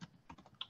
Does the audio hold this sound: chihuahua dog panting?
no